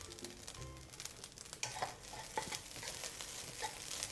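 Ginger fried rice with chopped spring onion being stir-fried in a pan, a soft steady sizzle with repeated scraping and tossing of the spatula, close up and without talking.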